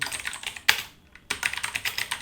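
Rapid keystrokes clatter on a computer keyboard during typing tutor practice, a brisk irregular run of clicks broken by a short pause before resuming.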